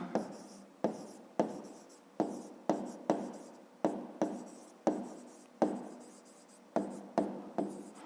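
Pen on paper writes out math working, a quiet, close series of about a dozen short scratching strokes in an uneven rhythm, separated by brief silences, with no talking.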